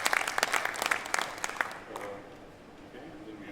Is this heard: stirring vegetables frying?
no